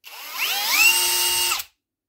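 A close-up Bosch Professional GSB 18V-150 C BITURBO cordless drill spins up with a rising whine, holds a steady high-pitched hum for over a second, then stops suddenly under its automatic shutoff.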